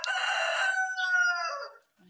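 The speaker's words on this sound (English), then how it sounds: "My chickens are greeting. They are saying hi." A backyard rooster in a small home garden gives one drawn-out cock-a-doodle-doo crow, close and clear, lasting under two seconds before fading to quiet.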